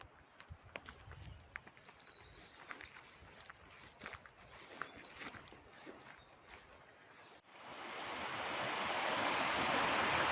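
A wild mountain stream in Val Venzonassa near Venzone, Italy, rushing and splashing as a steady broadband wash that swells louder and closer in the last few seconds.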